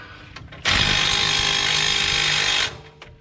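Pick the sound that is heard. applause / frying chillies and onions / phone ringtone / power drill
power drill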